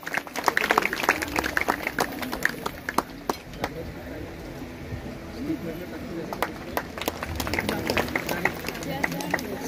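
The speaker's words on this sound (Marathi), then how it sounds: "आपण सर्वांनी टाळ्या देऊया." An audience at a school science exhibition claps together in a dense, continuous burst with sharp individual claps standing out, loud at first and then settling to a steadier patter.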